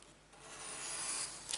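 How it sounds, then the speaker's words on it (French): A craft knife slices away a thin overhanging strip of paper while making a notebook, a short steady rasping scrape that builds and ends with a small flick, close and alone. "Un petit coup de cutter et j'enlève le petit blanc qui dépasse."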